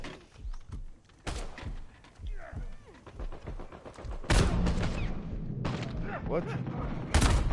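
Sniper rifle fire in Uncharted 4 multiplayer arrives as sharp, loud cracks among other game gunfire and heavy bursts. A voice briefly speaks.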